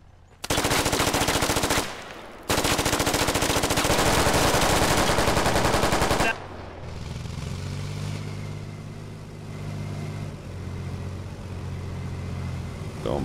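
Loud, rapid automatic gunfire rattles in dense sustained bursts in the video game Squad, then cuts off to a low vehicle engine rumble.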